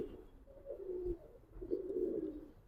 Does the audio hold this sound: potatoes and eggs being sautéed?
no